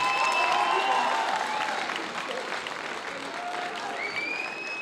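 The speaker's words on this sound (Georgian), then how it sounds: "უღრმესი მადლობა და აპლოდისმენტები როგორც ანსამბლს ისევე მუსიკოსებს" An audience at a Georgian choreography festival applauds a dance ensemble and its musicians, steady dense clapping that slowly eases off a little, with a few whistles or voices rising above it.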